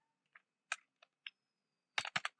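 Typing a command on a computer keyboard in the Windows command prompt: several isolated key clicks at first, then a quick cluster of louder keystrokes near the end, close and clear with no talking.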